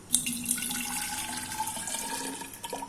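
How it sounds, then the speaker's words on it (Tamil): Water is poured for two servings while cooking a dried anchovy curry, a short, quiet splashing pour heard alone. "அடுத்தது ரெண்டு பேருக்கும் தண்ணி ஊற்றி வச்சிடலாம்"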